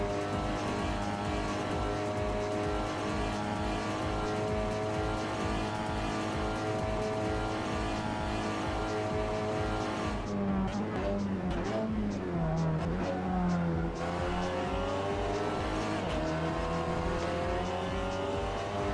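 Race cars roar around Bathurst in a sim racing game, a steady loud engine drone with harmonic whine, shifting pitch as cars draft and pass, with tyre squeal mid-run under occasional speech.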